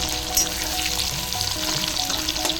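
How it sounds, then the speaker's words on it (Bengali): Chopped onions fry in hot oil in a pan, giving a steady, close sizzle and crackle that runs throughout with no voices. "কুচিয়ে রাখা পেঁয়াজ আর পেঁয়াজটাকে ভালো করে ভেজে নেবো"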